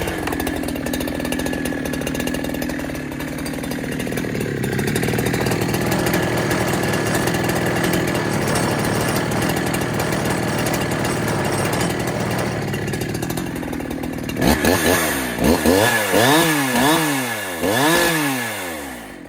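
A Holzfforma G372XP chainsaw runs steadily and loud after carburetor adjustment, holding a rough idle-like drone before revving up and down in rising and falling surges near the end.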